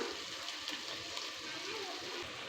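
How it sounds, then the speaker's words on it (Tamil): Water is poured into a coconut-paste potato gravy in a home kitchen, giving a soft, continuous gushing splash at low level with faint background noise. "தண்ணி சேர்த்துக்கிறேன்"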